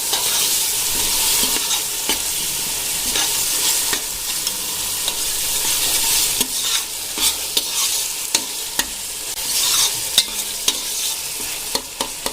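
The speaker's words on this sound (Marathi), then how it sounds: "छान प्रकारे आता आपला मसाला फ्राय होतोय" Chicken biryani masala with yogurt frying in a pan, a continuous sizzle broken by frequent scraping stirs and spoon knocks, close and steady, with no one speaking.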